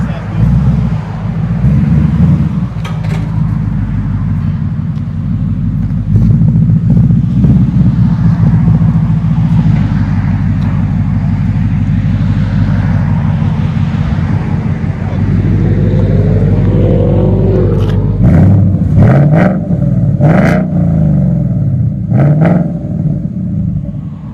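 Ford Mustang 5.0L V8 with resonators removed and pipe bomb exhaust, idling with a deep loud burbling rumble close by, then revving up in sharp bursts toward the end.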